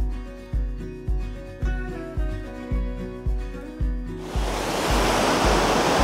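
After a stretch of rhythmic music, a waterfall takes over, a loud, dense roar of falling water heard from right beside it with no voices.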